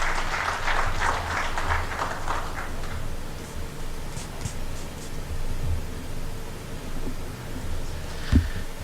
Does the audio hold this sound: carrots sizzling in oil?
no